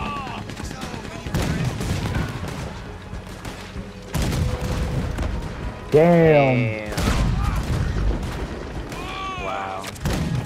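Repeated heavy cannon blasts boom in bursts amid Red Dead Online game sound effects, with a voice talking excitedly over them.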